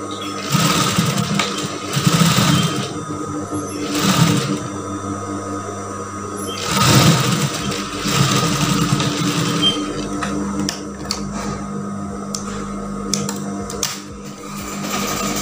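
A sewing machine stitches a seam on a brocade tunic, its steady motor whirr running loud and close in bursts that swell and ease across the stretch.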